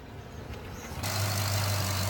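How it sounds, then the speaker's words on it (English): A vehicle engine starts up about halfway through and settles into a steady, close idle with a low hum, following a quieter stretch of background noise. "let me go turn the engine on real quick"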